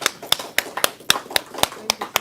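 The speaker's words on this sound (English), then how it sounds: "Let's welcome Annette with some applause." Applause for a speaker at a talk comes as distinct, spaced hand claps in a steady, fairly quick rhythm, crisp and close, sounding like only a few people clapping.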